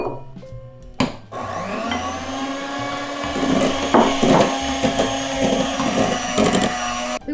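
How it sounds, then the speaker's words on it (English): A stand mixer whirs steadily as flour and milk powder are mixed slowly into gulab jamun bundt cake batter, with a continuous motor drone and intermittent knocking from the beater against the bowl. "Now we are going to mix in our flour and our milk powder that we whisked together earlier."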